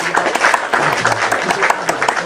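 A single person clapping hands during a lively online debate, quick uneven claps over a steady noisy background.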